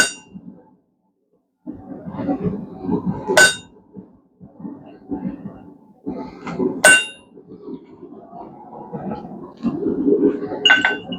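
Hammer blows ring out on a chisel slitting hot steel at a blacksmith's anvil, with two sharp metallic clangs standing out above a steady, low background of shop noise.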